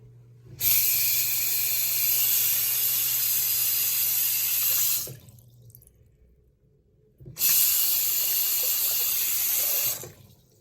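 GameCube controller parts rinsed under a running kitchen tap, with two steady bursts of splashing water separated by a short pause, close and loud.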